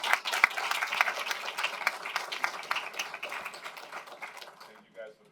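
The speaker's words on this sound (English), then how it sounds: "Can we give a round of applause to our panelists for their advice?" An audience at an early-career researchers panel of a conference applauds the panelists, a dense patter of claps that fades toward the end, with voices mixed in.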